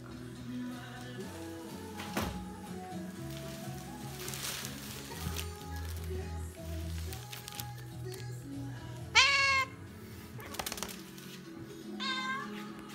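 A domestic cat gives two short meows after moving into a new apartment, one clear and fairly close, another fainter a few seconds later, over quiet household rustling and thumps, with a person talking nearby.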